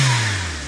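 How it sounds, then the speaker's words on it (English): A Kei car with a subtle factory blow-off valve gives a short falling whoosh as the revs drop, close and brief. "it has like a subtle OEM blow valve sound"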